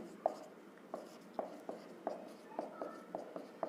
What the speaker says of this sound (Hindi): तो यहां पे देखिए लिख रहे हैं